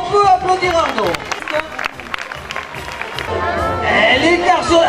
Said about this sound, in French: Mais je crois, public, on peut applaudir Arnaud.